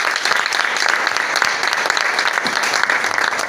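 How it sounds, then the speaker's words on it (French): Audience applause at a political steering committee meeting, a dense, steady wash of many hands clapping, loud and continuous throughout with no talk over it. "On applaudit."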